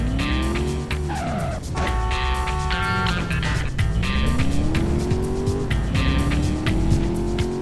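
Car engine revs and rises in pitch as it drives through the streets of the Driver: San Francisco game, with tires squealing and skidding repeatedly; loud and continuous, no talk.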